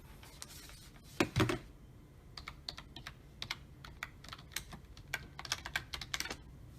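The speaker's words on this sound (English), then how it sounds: "So you just type in" Rapid key taps on the small built-in controls or on-screen keyboard of an RG353P handheld running Android, entering a search, forming an irregular run of close, crisp clicks with a brief thud near the start.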